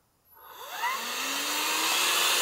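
A vacuum cleaner used to suck straggler bees off a hive switches on and whines up to a loud, steady roaring hum, heard close and alone.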